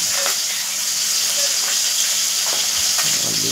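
Potatoes fry in oil with a loud, continuous close sizzle and crackle, spiked by a few brief pops and stirring sounds, with no voices over it.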